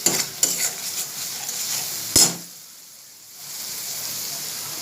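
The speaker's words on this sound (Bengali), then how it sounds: "দিয়ে আবার আমি একটু নাড়িয়ে নিচ্ছি।" Egg curry masala being stirred and fried in a pan: a steady sizzle with scraping spoon clinks against the pan, one sharp clank, then the frying fades to a quieter hiss.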